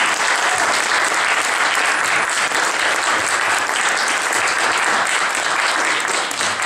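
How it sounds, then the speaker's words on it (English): An audience at a community concert event applauds steadily and loudly, a dense, continuous wash of clapping with no pauses. "So another round of applause"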